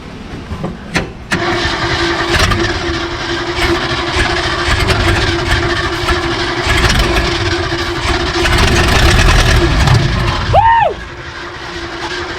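A Ford F350 dually truck engine cranks briefly, then catches and runs steadily at a loud, rough idle for most of the stretch before cutting out near the end.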